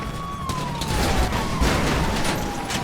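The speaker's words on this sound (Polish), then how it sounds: "O, tu jest w ogóle straż pożarna" A fire truck siren wails in the GTA Online video game, a sliding tone drifting slowly downward amid bursts of gunfire and engine noise, fairly loud.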